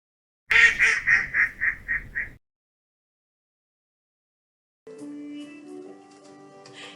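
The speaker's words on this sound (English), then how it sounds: "Dúirt Mommy Laca, quack, quack, quack" A quick run of about eight loud quacks in steady rhythm, then silence, followed by a softer stretch of music.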